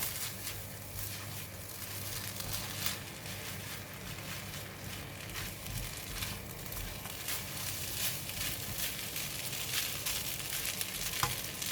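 Garlic fried rice with oil, fish sauce, sugar and fried garlic being stirred and mixed in a hot pan: a soft continuous sizzle with scraping and stirring strokes, fairly quiet.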